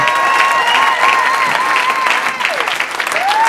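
A church congregation at a 20th-anniversary service applauds and acclaims God, sustained loud clapping with voices and held, wavering tones running over it throughout.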